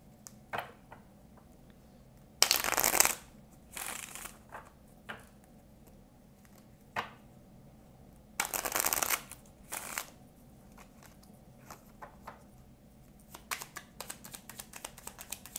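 A deck of oracle cards is shuffled by hand in a quiet room, with several separate bursts of riffling scattered between soft taps and light handling noises.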